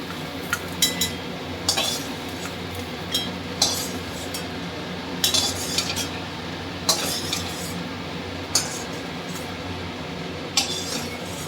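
Black cumin dry-roasting in an oil-free pan for a bottle gourd leaf bharta, with sharp spatula scrapes and clinks at irregular intervals over a steady low background hum.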